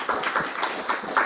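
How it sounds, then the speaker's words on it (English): A conference audience gives a short round of applause, scattered hand claps at moderate distance, brief and steady, with no talk over it. "let's really give a round of applause to the APA and Dr. Saluja for the sponsorship"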